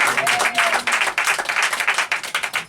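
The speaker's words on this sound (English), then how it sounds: "give Malcolm a big round of applause." Enthusiastic applause from an audience at a close-up magic show, steady rapid clapping that stays loud throughout with no voices over it.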